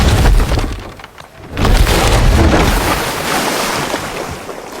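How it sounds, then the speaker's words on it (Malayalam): In the God of War game, a log rolled into the water sets off a loud, close rushing splash and surge, dipping briefly before a second heavy wash of water that slowly settles into a churning hiss. "ആ മരം ഉരുട്ടി നമ്മൾ വെള്ളത്തിലിട്ട് ഇട്ടിട്ടുണ്ട്"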